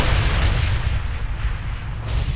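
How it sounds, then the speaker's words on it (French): Heavy artillery fire in the video game Star Wars Republic Commando roars as a loud, continuous, rumbling barrage of booms that fills the whole moment without pause. "Sortez l'artillerie lourde, soldat."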